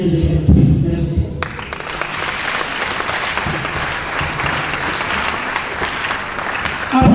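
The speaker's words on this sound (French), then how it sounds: "Applaudissons très fort pour ce merveilleux couple." Wedding guests at a civil ceremony break into loud, sustained applause for the couple, a dense crowd of clapping hands beginning after a brief moment of talk and continuing steadily to the end.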